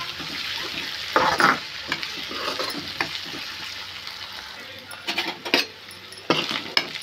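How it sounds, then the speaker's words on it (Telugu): Ginger-garlic paste frying in a pan for a bottle gourd stew, with a steady close sizzle broken by intermittent scraping and clinking of a spoon stirring against the metal. "ఈ అల్లం వెల్లుల్లి పేస్ట్ పచ్చివాసన పోయేంత వరకు వేపుకోవాలి."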